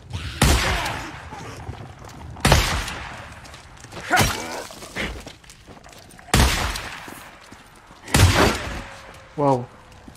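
Shotgun blasts in the video game Days Gone on PS5, five loud, booming shots spaced a couple of seconds apart, with a brief mechanical reload clack near the end.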